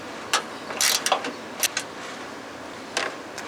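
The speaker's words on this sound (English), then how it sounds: "And then you want to undo your second one here." A wrench loosens a bolt on a Lasfit 3-inch LED pod ditch light mount, with several short metallic clicks and scrapes in scattered bursts, close by over quiet background, no speech.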